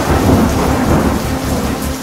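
Torrential monsoon downpour in Madhya Pradesh, a dense, loud, steady roar of heavy rain with low rumbling thunder throughout and no voices.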